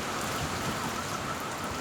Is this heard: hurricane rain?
yes